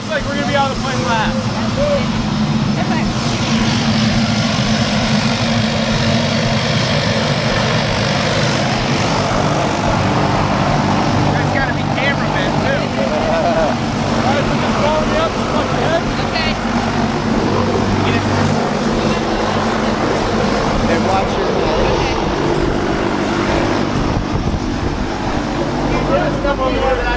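Skydiving plane engine drones loud and continuous throughout, a steady propeller roar filling the cabin with no break.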